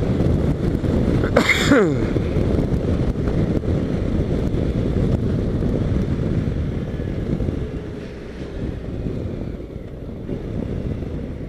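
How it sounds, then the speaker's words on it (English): Gusty wind roars over the microphone while riding a new bike, a heavy low rumble that stays loud and continuous, easing slightly near the end, with a brief breathy burst early on. "It's really gusty, just kind of blowing me around."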